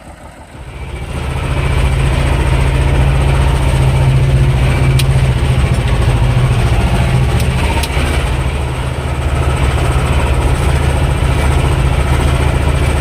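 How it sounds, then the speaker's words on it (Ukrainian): A T-25 tractor engine runs steadily and loudly while discing a field, a continuous low mechanical drone with rattling that holds level throughout, with no talk. "Так, Ковбасить в цьому тракторі капітальна. але вже якось звикаєш з руками."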